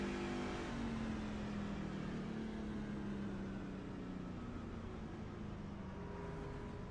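Truck engine in a racing video game at Talladega, a continuous droning engine tone that slowly falls in pitch, steady and fairly faint with no talk.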